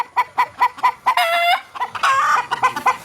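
A gamefowl rooster of the Leopard Dom Hatch line at a game farm gives a crow amid repeated clucks and short calls from nearby birds, close and fairly loud with no talk.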